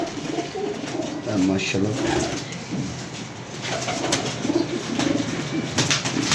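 Pigeons cooing in a loft, soft throaty coos repeating close by amid background chatter, with people talking over them and occasional rustling.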